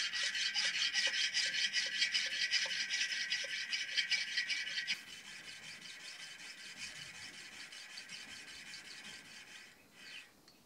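Hand sanding a soft, unhardened steel blade for a forged recurve hunting knife, with steady rhythmic rasping strokes that are loud and close at first, then quieter and continuing alone.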